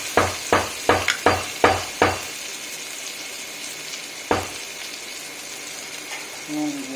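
Onions dropped into a hot pan for a thin snakehead fish curry, with a run of six sharp knocks followed by a steady low sizzle, one more knock, and a faint voice near the end.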